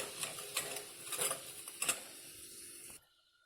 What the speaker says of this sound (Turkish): Şimdi biraz karıştıralım